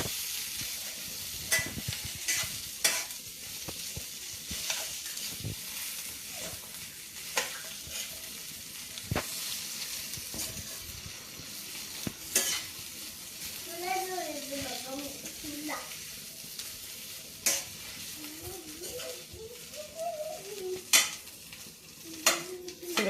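Diced potatoes being stirred and sautéed in a pan for a Mahashivratri fasting meal, with repeated spoon scrapes and clicks over a steady sizzle, and a voice speaking faintly underneath partway through.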